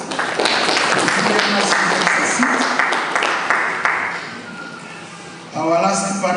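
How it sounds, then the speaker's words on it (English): A conference audience at a real estate and infrastructure event applauds a panelist with dense, loud clapping that fades toward the end, and a voice comes in just after. "A round of applause."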